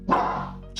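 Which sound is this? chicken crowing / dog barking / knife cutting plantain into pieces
dog barking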